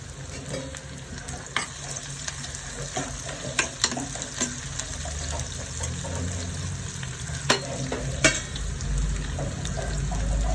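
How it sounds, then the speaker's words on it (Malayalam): Chopped shallots fry in a pan for Angamali-style mango curry, sizzling continuously and close with scattered clicks and scrapes of stirring throughout. "കൊച്ചുള്ളി അരിഞ്ഞു വെച്ചത് ഇട്ട് കൊടുക്കാം അത് നന്നായിട്ടൊന്ന് മൂക്കണം"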